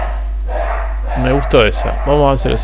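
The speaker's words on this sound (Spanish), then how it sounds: "perdón por los perros" Dogs bark and yip a few times at moderate distance, the barks overlapping with someone speaking Spanish over a steady low electrical hum.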